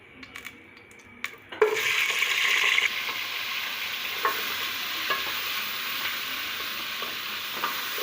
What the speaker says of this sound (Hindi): गोश्त को हम अच्छे से फ्राई करेंगे ऑयल के अंदर 7 से 8 मिनट तक।